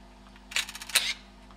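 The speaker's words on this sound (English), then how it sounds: "you heard the mirror go up, and then kind of a stutter from the shutter that was giving its 5 exposures in a quarter second" A Samurai Z2 camera's mirror flips up, then the shutter fires a rapid burst of about five clicks in quick succession, crisp and close in a quiet room.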